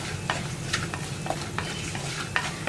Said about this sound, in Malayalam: ഇത് രണ്ടും ചേർത്ത് ഇതിൻ്റെ ആ ഒരു റോ ടേസ്റ്റ് മാറി വരുന്നത് വരെ ഒന്ന് ഇളക്കി കൊടുക്കുക.